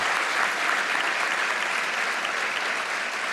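Dense, continuous applause from a large banquet audience at the White House Correspondents' Dinner during an applause break in a presidential speech, an even wash of clapping held at steady volume throughout.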